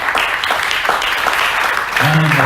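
Loud, dense audience applause fills the whole clip as a steady wash of clapping, with a brief voice or tone rising near the end.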